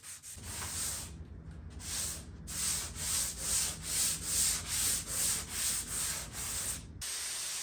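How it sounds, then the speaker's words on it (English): Scuff sanding a coat of finish on a mid-century modern furniture piece, with steady rhythmic back-and-forth rasping strokes, close and fairly loud, and no talking. "I'll do another scuff sand, dust it off"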